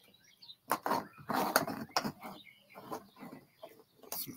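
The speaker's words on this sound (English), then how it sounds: "Some pretty birds singing." Birds sing outdoors in Arizona, a run of chirps and clucking calls bursting at close range with brief pauses between them.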